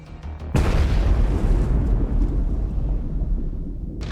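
A missile strike hits a Russian combat vehicle with a sudden loud blast, followed by a long rumbling roar that slowly fades over several seconds.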